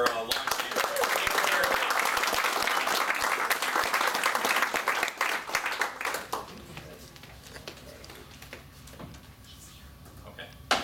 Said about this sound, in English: Give one last round of applause for our launch team.